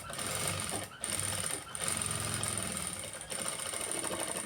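A sewing machine runs steadily through a tacking stitch on a blouse made from saree cloth, its close, continuous mechanical whir broken by a few brief pauses.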